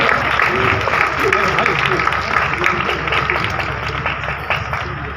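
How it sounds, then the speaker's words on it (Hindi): At a school's annual festival closing ceremony, an audience claps steadily to welcome a student to the stage, the applause a continuous crackle beneath someone speaking over a loudspeaker. "तालियों के साथ खैर मकदम।"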